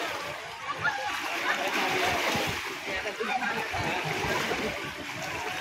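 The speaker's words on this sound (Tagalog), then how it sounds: "Medyo maalon po yung ilog, malakas po alon kasi may dumadaan pong lancha" River waves churned up by passing motorboats splash and slosh steadily against a small ferry boat close by, loud and choppy, with a voice faintly underneath.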